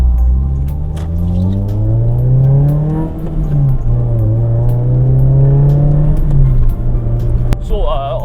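A modified Suzuki Swift Sport ZC31S with a short shifter revving up through the gears, heard from inside the cabin, pitch rising, dropping at a shift, then climbing again, loud and close.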